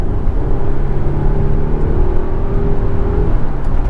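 A Volvo XC90 Recharge plug-in hybrid with 455 horsepower accelerates hard, its engine and electric motor rising in a steady whirring drone under loud, continuous wind and road rumble.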